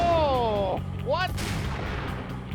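Gunshots ring out in the Max Payne video game, a couple of loud close blasts following a brief vocal exclamation, amid game ambience.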